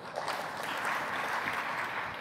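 Audience clapping to vote on a colorized image, a steady broadband wash of many hands filling about two seconds at moderate level with no voices.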